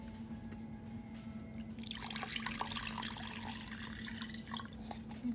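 Water is poured into a snow globe, a steady splashing trickle that starts about a third of the way in and runs on close and moderately loud over a low background hum.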